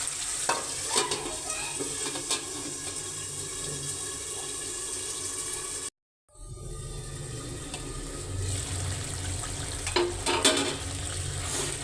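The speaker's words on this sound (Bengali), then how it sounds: "এবার মাছগুলো ভালো করে কষানো হয়ে গেছে।" Shing fish fry with spices in a pan, giving a continuous close sizzle with occasional stirring scrapes. A brief cut to near silence comes midway before the frying resumes.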